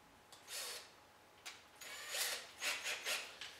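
Several short bursts of a small power drill whirring as it spins a pinewood derby part while applying graphite, quiet and close, starting and stopping in an uneven rhythm with no talking.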